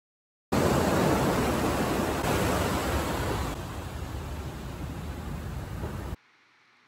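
Beach in Malibu with a loud, steady wash of surf or wind noise that starts abruptly, fades slightly partway through, then cuts out to near silence; no voices.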